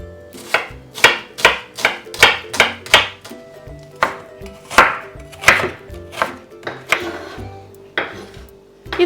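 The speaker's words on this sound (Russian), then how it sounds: "Одну крупную луковицу также нарезаю кубиком." An onion diced into cubes with a knife on a cutting board, giving a steady series of close, sharp chopping knocks with brief pauses between runs.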